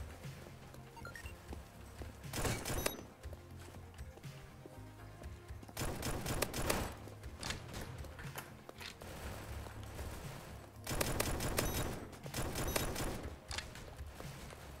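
Three separate bursts of rapid gunfire from a gun in a Roblox shooter game, each a quick rattling volley, spaced apart by quieter stretches.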